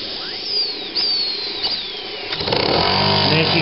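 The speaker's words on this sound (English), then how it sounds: "Homebuilt oscillator. One of my favourite engines, this. I built it myself." A homebuilt steam oscillating engine running on 40 psi of steam hisses and chuffs, with the rapid rhythmic beat of the engine speeding up and becoming louder and busier toward the end.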